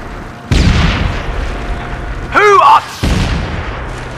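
Two heavy frag grenade blasts from the SOCOM 4 video game, about two and a half seconds apart, each a sudden loud boom with a rumbling tail, separated by a brief shouted voice.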